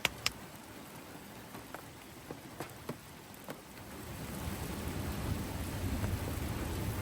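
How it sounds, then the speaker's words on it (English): Thunder rolls in from a rainstorm over a fishing lake, a low rumble that swells over a few seconds beneath steady rain. Scattered raindrops tap sharply at the start. "Hear that thunder?"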